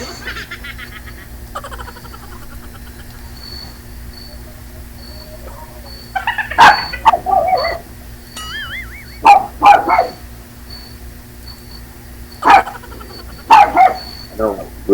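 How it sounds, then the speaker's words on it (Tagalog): A neighbour's dog barks in irregular bursts, loud and fairly close, over a steady background hum, with short gaps between volleys and some whimpering yips. "Maingay yung aso nyo."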